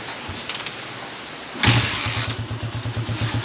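A repaired engine cranks and starts after a faint lead-in, catching with a loud burst and settling into a steady, rhythmic close idle pulsing evenly.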